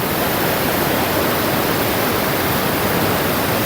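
A waterfall and river in Mauban, Quezon rush with a dense, steady roar of falling and flowing water, close and loud, with no voices.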